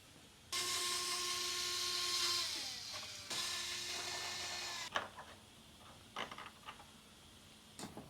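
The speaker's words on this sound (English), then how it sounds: "We're going to remove both of the 30 torque screws" A cordless power driver whirs in two loud, close bursts, winding down at the end of each, while backing out the Torx screws on a Porsche 992 911 Targa ducktail, followed by a few quieter clicks and handling clatter.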